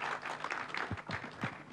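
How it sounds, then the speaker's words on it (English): An audience at a Kenyan meat expo gives brief, steady applause through the opening remarks. Hand claps blend into a dense wash, with a few faint low thumps mixed in. "you can clap for our peers"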